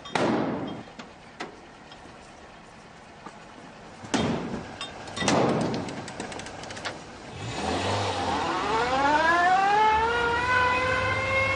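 A car is heard close up. A few door thuds and shuffling come first, then the engine starts and accelerates with a steadily rising whine as it pulls away.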